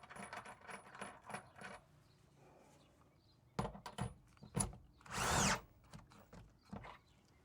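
Work underneath on a Lock N Load BK1000 wheel chock mount, with short bursts from a power driver, metallic clinks and a louder sustained tightening run near the end, close and without talk.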